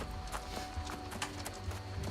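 A horse mount from New World clip-clops in a quick, even rhythm of hoofbeats, faint and close, over soft game ambience.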